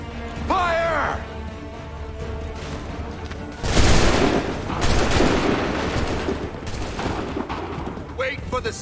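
A musket volley from a line of soldiers in Assassin's Creed III erupts as one loud crackling burst, trailing into scattered shots and rumbling battle noise, with shouting voices around it.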